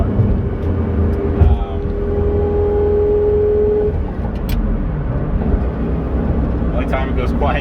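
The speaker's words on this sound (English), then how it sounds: "you still have the drone of the engine right behind you, and it is loud" A loud, steady engine drone comes from a Lamborghini while it drives down the road, with a brief rising tone partway through. Someone talks over it throughout.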